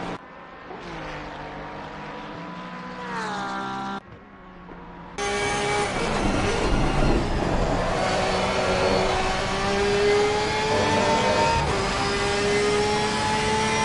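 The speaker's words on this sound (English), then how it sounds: "Let's follow Pedro on his lap with the Porsche" A Porsche race car's engine on a qualifying lap at Oulton Park howls through rising and falling gears, starting thinner and then swelling into a loud, sustained close roar with sharp shifts.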